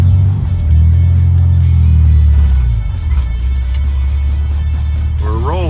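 A 1964 Corvair Monza 900 pulls away in first gear, its engine a loud, steady low rumble heard close up from inside the car, with brief faint talk near the end.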